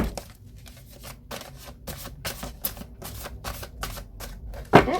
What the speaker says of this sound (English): let me shuffle one more of these